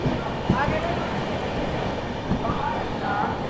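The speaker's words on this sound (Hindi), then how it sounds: "चलिए अपनी झारखंड संपर्क क्रांति ओवरटेक करने जा रही है दिल्ली अलीपुरद्वार सिक्किम महानंदा एक्सप्रेस को फिरोजाबाद में" Jharkhand Sampark Kranti Express overtaking the Delhi–Alipurduar Sikkim Mahananda Express at Firozabad, a steady rumble of rail cars rolling past with a few brief clanks and faint squeals throughout.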